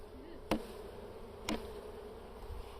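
Honeybees hum faintly and steadily around a beehive frame, broken by two sharp knocks about a second apart.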